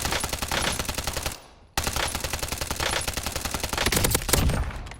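Sustained automatic assault rifle fire in a video game, rapid loud bursts with a brief pause before shooting resumes, no talking.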